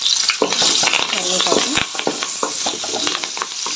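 Loud sizzling of curry leaves frying in hot oil, with scraping and stirring sounds from a spoon in the pan.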